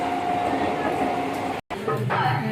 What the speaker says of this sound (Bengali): ঢুকে গেছে আমাদের ট্রেন